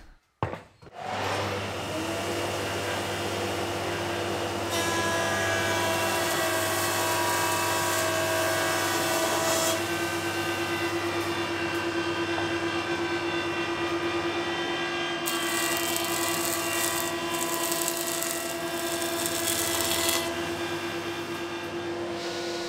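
Jointer flattening Tasmanian Blackwood boards, heard as a loud, steady machine whine that starts from silence and spins up to a constant drone, with cutting noise swelling in passes through the middle and end.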